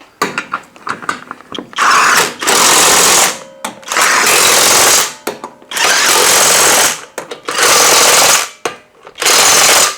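An Alloyman 450 ft-lb electric 1/2-inch impact wrench fires in five loud hammering bursts of about a second each, separated by short pauses with small clicks and handling noise.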